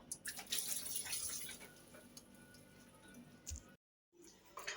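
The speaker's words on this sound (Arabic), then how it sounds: "اهو السمك بعد ما غسلته حلو قوي تحت الحنفية" Fish rinsed under a running kitchen tap, a steady close splash and patter of water with small clatters, broken by a brief silence near the end before the flow resumes.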